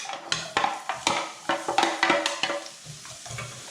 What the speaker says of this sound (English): then I'm going to add my peppers and my onions